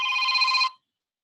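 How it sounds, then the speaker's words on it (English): Telephone ringing during a lecture: a single electronic ring burst with a steady tone sounds loud and close for just under a second, then cuts off into silence. "I have to answer the phone"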